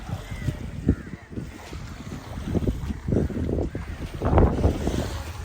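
A small fishing boat rocks on open water with sloshing waves and gusty wind buffeting the microphone, close and continuous, while someone talks over it.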